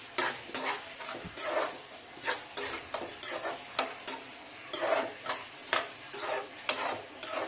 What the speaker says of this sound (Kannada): ಈಗ ಹಾಕಿ ಚಂದಗೆ ಇದನ್ನು ಮಿಕ್ಸ್ ಮಾಡಿ ಫ್ರೈ ಆಗ್ಬೇಕು ನೋಡ್ರಿ